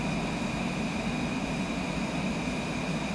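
An airliner climbs after takeoff in Microsoft Flight Simulator 2024 on a short winter hop in Alberta, a steady broadband engine roar with a constant whine, unchanging throughout.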